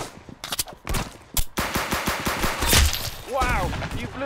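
Gunfire from the Roblox game Arsenal rattles in quick bursts of shots, loud and close, with rapid firing in the middle and a speaking voice over the shooting toward the end.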